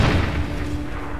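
A gunshot in the video game Rise of the Tomb Raider lands as a single deep, booming report right at the start, its low rumble fading away over the following second.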